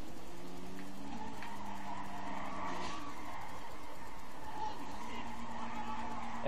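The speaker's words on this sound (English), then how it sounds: "you spin out instantly. Like you skid and everything." Car skidding and spinning out in GTA 5, with gliding tire squeal tones over a steady engine drone, sustained at moderate level throughout.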